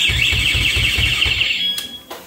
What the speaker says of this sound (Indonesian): dia ada bunyi buzzer dan sen berkedip